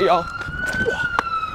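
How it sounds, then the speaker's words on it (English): A passing ambulance siren holds a steady wailing tone for the full short stretch, loud and close, while a voice speaks briefly over it. "Don't worry about the ambulance."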